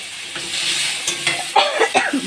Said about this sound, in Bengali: সমস্ত আমটাই দিয়ে দেবো দিয়ে দিয়ে ভালো করে নেড়ে ছেড়ে